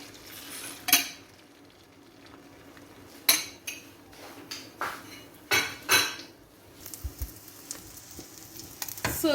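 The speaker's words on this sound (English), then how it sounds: "Then pour in your egg." Egg frying in a small amount of oil in a frying pan after onions, pepper, tomatoes and salt, with sizzling under repeated sharp clinks and scrapes of utensils against the pan, moderately close, no talk.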